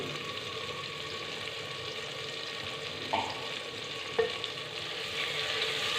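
Potatoes and fenugreek leaves frying in a pan with turmeric and salt, a continuous soft sizzle punctuated by two brief scraping stir strokes of a spoon, close and moderately quiet without talk.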